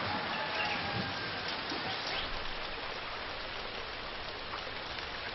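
Monsoon rain falling in India, a dense steady hiss of heavy rainfall on surfaces that holds at the same loud level throughout, with no voices.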